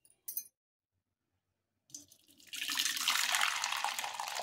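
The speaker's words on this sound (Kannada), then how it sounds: "ಬೇರೆ ನೀರು ಹಾಕ್ಯಾನ ಇದು ಮಾಡ್ತೀನಿ ನೋಡಿರಿ." Fresh water poured over soaked wheat grains in a home kitchen: a brief clink, a pause, then a close, steady rushing pour that swells and continues to the end.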